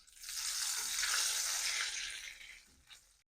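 Whole spices — bay leaf, cinnamon, cracked cardamom, peppercorns and a clove — sautéing in hot ghee in a pan, a loud close hiss that swells, holds for about two seconds, then fades.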